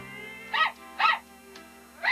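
Dog whimpering in a 1980s film scene, three short high-pitched whines spaced about half a second apart, close and clear over a quiet background hum.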